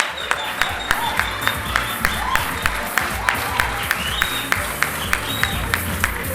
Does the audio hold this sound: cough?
no